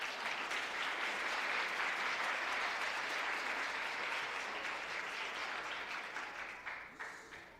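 A wedding congregation applauds to welcome pastors at a church wedding ceremony, with dense, steady clapping that carries on for several seconds before tapering off at the end.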